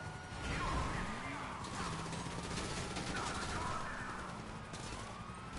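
Gunfire in GTA V Online, a steady din of shots and crashes with a siren-like wail running through it, loud and continuous amid game noise, while people talk over it.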